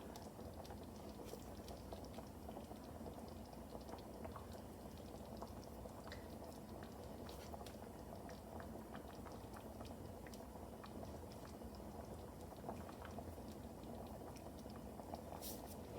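A pot of chicken stew with herbed dumplings bubbles steadily at a low simmer, soft continuous popping and gurgling with no voices, fairly quiet and close.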